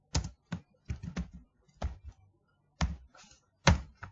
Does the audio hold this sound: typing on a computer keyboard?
yes